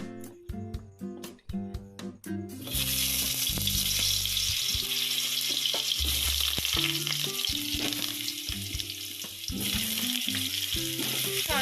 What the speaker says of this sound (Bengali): তেলটা গরম হয়ে গেলে আলুগুলো আমি ভেজে নেব প্রথমে।